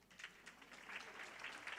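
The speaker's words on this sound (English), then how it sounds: "Let us clap hands for her" A faint, distant patter of audience clapping at an official fund unveiling ceremony, a short, steady round of many hands applauding for an introduced speaker.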